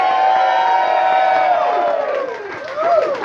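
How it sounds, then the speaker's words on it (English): Wedding reception guests cheer and whoop for Brady in a loud crowd roar, with rising and falling shouted voices that swell again toward the end. "how about a big round of applause for Brady?"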